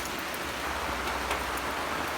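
Heavy rain pours down steadily and loudly, a dense unbroken wash of drops hitting surfaces close by with no voices.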